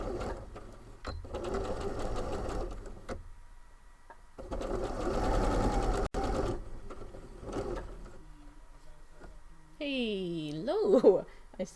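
A sewing machine runs in two long steady stitching bursts with a pause between, close and even, followed by a few mechanical clicks; a voice speaks near the end.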